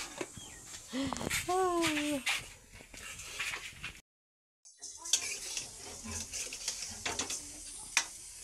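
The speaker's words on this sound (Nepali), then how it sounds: "छोरोले यहाँ चिउरा भुर्दैछ" Chiura (beaten rice) roasting in a pan in a village kitchen, a soft dry rustle and light stirring under people talking and a voice, cut by a brief gap of silence midway.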